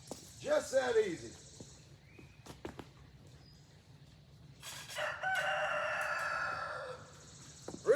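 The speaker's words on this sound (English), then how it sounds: "Rooster doesn't like it." A rooster crows out in the open, a short, fairly faint call early on, with later bird and outdoor noise that may include another crow and brief chainsaw or leaf-blower work nearby.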